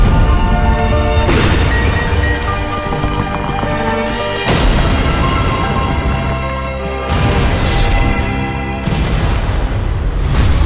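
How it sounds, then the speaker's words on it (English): A series of loud explosions booms one after another, with several big blasts and crashing rumbles overlapping into a continuous roar. "For this next diversion, I really just wanted to have a lot of explosions."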